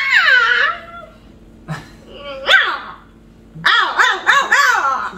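A person imitates a dog, giving a series of loud barks, yelps and whining howls in bursts with short pauses between them.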